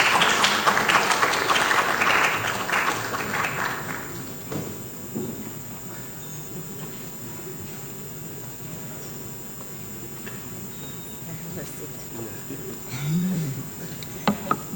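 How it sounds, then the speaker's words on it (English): Audience applause at a technology transfer and agriculture dialogue event, loud broadband clapping for about four seconds, then fading out into quiet room tone with faint background rumble. "Let's give her a round of applause as she comes up."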